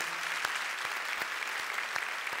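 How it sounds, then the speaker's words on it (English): Audience applause at a TEDx event welcoming a speaker to the stage, a steady dense wash of clapping at moderate distance with a few sharper individual claps standing out, no voices. "Another round of applause"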